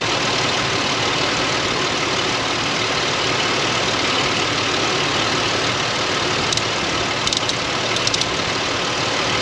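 A 2002-2010 Ford Explorer 4.0L V6 engine idles steadily at close range, a continuous low rumble with faint ticking, no voices.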